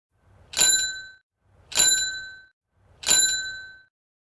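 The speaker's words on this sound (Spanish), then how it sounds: "bicicleta" A bicycle bell rings three times at an even pace, each clear metallic ding ringing on briefly, close and alone.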